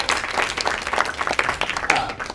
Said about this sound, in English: Round of applause for Betsy